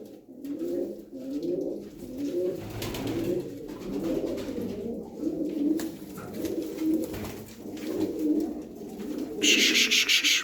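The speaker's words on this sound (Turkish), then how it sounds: "bir kümes dolusu kuş arkadaşlar" A crowd of pigeons in a coop coos and murmurs steadily at close range, with soft rubbing and shuffling throughout and a brief hiss near the end.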